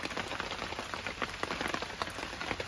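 Steady rain falls and patters densely on a surface, a continuous moderate hiss with scattered drop impacts and no voices.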